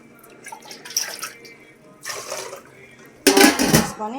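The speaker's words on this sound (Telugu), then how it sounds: "ఇట్లా వాటర్ పోసుకొని" Faint clinks of metal utensils, then a loud, close gush of water poured into a pot holding seven eggs near the end.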